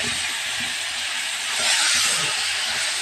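Taro leaves (kochu shak) hitting a hot pan with ginger paste and bay leaf give a steady, loud broadband sizzle that swells briefly midway, with no voices.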